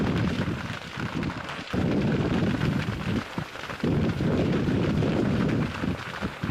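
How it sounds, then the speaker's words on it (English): Huge gas explosion in the Russian Urals east of Moscow, heard as a sustained, loud roaring rumble like a fire or blast, with broad noise, brief dips and surges throughout, and no speech. "huge gas explosion is mysteriously triggered in the Russian Urals"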